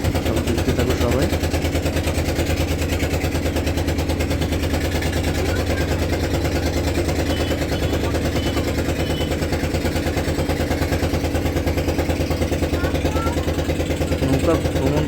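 A motor boat engine drones steadily on a river boat trip along the Bangladesh border at Taki. The hum is continuous and close, and a person talks over it throughout.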